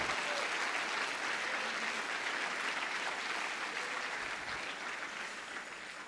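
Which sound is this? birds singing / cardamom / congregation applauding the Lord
congregation applauding the Lord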